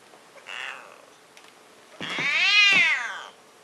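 A cranky cat meows in two bursts, a short one followed by a long, loud, rising and falling drawn-out yowl with growling character, close to the listener.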